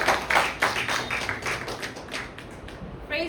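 A church congregation at a Passion Week service applauds to welcome a woman preacher, a dense round of clapping that starts loud and slowly fades over a few seconds.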